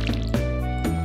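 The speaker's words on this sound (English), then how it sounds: "it's better to water it." Crops watered with a watering can in Stardew Valley, two or three short splashy pours of water in quick succession over a sustained musical backdrop.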